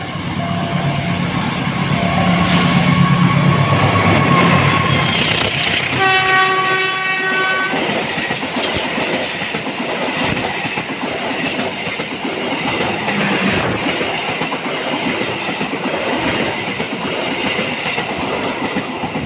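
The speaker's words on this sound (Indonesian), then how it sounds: "Kita tunggu habis ini keretanya lewat ya kawan-kawan." The Dharma Wangsa passenger train, hauled by a CC201 diesel locomotive, passes close and loud, sounding a sustained horn blast before its wheels and wagons rumble and clatter steadily past.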